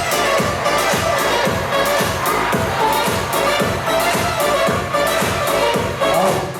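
Guests at a 50th birthday celebration in a restaurant clap and cheer over loud, rhythmic party music with a thumping beat, the crowd noise blending into the steady festive din.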